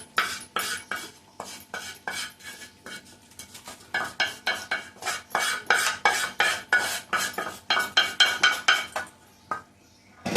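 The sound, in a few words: stirring and frying asafoetida and turmeric in a pan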